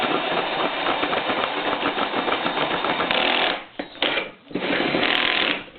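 A vintage 1965 Craftsman saber saw cutting on a table, with a loud, continuous buzzing reciprocating drone that strains and stutters with two short dropouts near the end of the cut.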